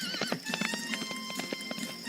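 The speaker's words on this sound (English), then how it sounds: "with one last look at Lolita, he left the house, jumped on his horse, which was waiting" A horse gallops away with rapid, quick clip-clopping hooves and a whinny, close and moderately loud over a constant background drone.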